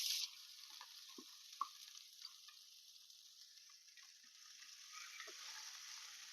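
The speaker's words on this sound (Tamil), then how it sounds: "ஸ்டவ் சிம்ல வச்சு நல்லா வதக்கி விட்டுக்கலாம்" Grated cabbage, about 200 grams, sautés with curry leaves in a pan on a low stove flame, giving a steady soft sizzle with a few faint clicks of stirring and no talk.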